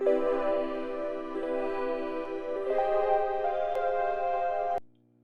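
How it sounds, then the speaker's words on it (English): Soft Juno synth pad layered with electric keys playing a slow sustained chord progression, clear and close, ending in a sharp stop. "I have a combination of the JUNO pad and the E keys playing this"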